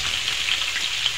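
Vegetable stalks with salt frying in hot oil in a Bengali home kitchen, giving a short, steady, close sizzling hiss with no talking.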